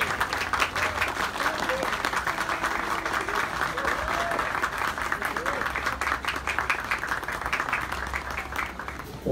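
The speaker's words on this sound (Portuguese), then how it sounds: "salva de palmas." Dense, sustained applause from a concert audience at a live orchestral performance, many hands clapping steadily for several seconds with a few voices mixed in before it thins out at the end.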